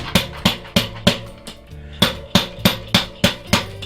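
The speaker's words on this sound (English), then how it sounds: "about 10 or 12 whacks on the tire" A mushroom spawn jar is whacked against a tire about a dozen times, each blow a sharp, close thud with a faint glassy ring in an uneven rhythm roughly three per second.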